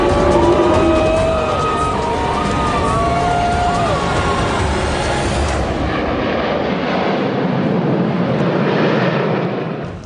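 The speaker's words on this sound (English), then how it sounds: "like very impressive airplanes" Airplanes roaring past overhead during Singapore's National Day Parade at the Padang, a loud rushing jet sweep that swells and then fades out toward the end, heard alone without speech.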